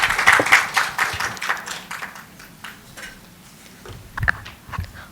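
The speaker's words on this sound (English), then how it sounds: "Please give him a huge round of applause," Audience at a national gynaecology and fertility conference awards ceremony applauding, a steady wash of clapping that starts strong and then thins out a little, with a few louder claps near the end.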